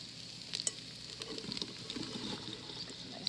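Chopped cauliflower florets, about 2½ pounds, tumble into an Instant Pot with a few soft clattering thuds near the start, followed by light rustling and settling against a steady background hiss.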